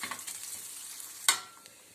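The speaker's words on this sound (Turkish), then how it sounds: "Evet şehriyelerimizi ekleyelim tavaya. Kızarana kadar karıştırarak devam edelim." Thin vermicelli stirred and toasted in a frying pan for a Turkish aslan sütü dessert, giving a soft steady sizzle with light scraping and one sharper clatter of the utensil partway through.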